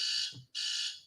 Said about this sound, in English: that beeping is the battery's about to die